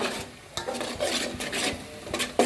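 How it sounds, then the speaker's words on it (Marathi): Masala paste for misal stirred and roasted in oil in a pan: repeated close scraping strokes of a spoon against the pan with a faint sizzle underneath, fairly quiet. "तेलावर आपलं वाटण चांगलं भाजत आले"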